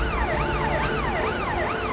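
A fire brigade siren wails in a steady rising and falling cycle, loud and continuous with no voices, during a building fire scene.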